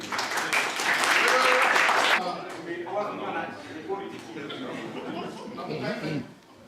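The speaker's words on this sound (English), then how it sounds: "Give a round of applause, please." A crowd at a 30th anniversary gathering at Culloden breaks into loud applause for about two seconds, then the clapping stops and several voices talk and murmur.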